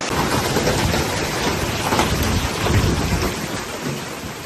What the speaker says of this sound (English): the terrifying roar of the storm echoed through homes and buildings